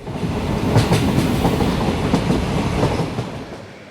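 A train runs on rails, close and fairly loud, with a continuous rumble and a rhythmic clickety-clack of wheels over rail joints, and no voices.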